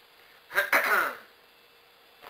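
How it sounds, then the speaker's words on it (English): A single short throat-clearing cough, close and fairly quiet, in an otherwise still room. "I'm coughing into my hands."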